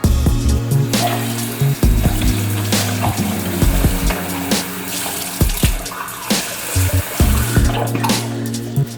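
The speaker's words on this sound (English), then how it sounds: "So let me start by wetting my face." Water from a tap pours steadily into a sink while a face is wetted before shaving, with irregular splashes and drips over the constant flow.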